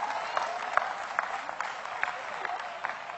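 Steady applause from a crowd, a dense patter of clapping with a few sharper claps popping out, while a voice speaks faintly underneath.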